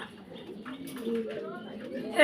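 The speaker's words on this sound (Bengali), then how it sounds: "এক জোড়া দুই জোড়া কবুতর রানিং এবং ডাকের ব্যাপারে সত্যিই অসাধারণ ডাক" Pairs of pigeons coo in a low, throaty, rolling murmur close by, continuing steadily while a person talks over them.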